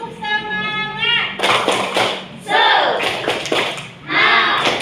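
Schoolchildren in a classroom do a rhythmic 'tepuk semangat' clap, with bursts of clapping and chanted voices trading with a teacher's sung call, loud and close.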